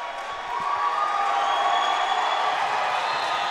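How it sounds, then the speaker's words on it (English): A crowd cheering and roaring at a men's college basketball game after a three-pointer, the noise swelling suddenly and holding loud and sustained in a large gym. "Crowd goes wild."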